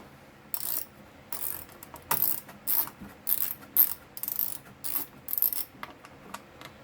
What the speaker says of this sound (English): I'm going to switch to a different ratchet, one that's got the wheel on the top here.